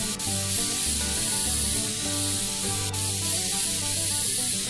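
Steady spray paint hiss coating a wooden chair in the game Woodwork Simulator, a continuous airy spray running throughout with a low hum and faint tones beneath.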